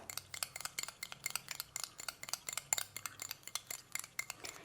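Curd being stirred and mixed with another ingredient in a bowl for a face pack gives quick rhythmic spoon clinks and scrapes against the bowl, quiet and close, with no talk.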